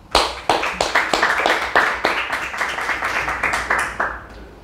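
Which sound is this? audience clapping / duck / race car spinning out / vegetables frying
audience clapping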